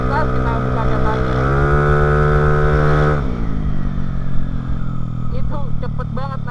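A 2014 Vespa Primavera 3V scooter engine, remapped ECU, revs up loud and close as the throttle opens, its pitch climbing steadily before easing back to a lower drone.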